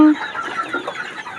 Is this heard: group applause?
no